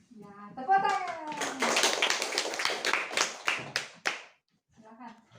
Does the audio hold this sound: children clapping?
yes